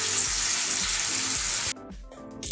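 Mustard paste and coconut milk hit a hot pan for a hilsa curry, giving a dense steady sizzle close by that suddenly drops to a quieter simmer near the end.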